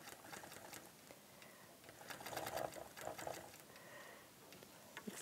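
A sewing machine stitching along a seam of an antique quilt, a rapid steady needle chatter that swells and eases as the pace changes, close and continuous with no talking.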